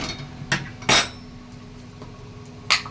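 A metal kadai set back down on the stove, giving a few sharp metallic knocks and clinks spaced apart over a quiet background hum.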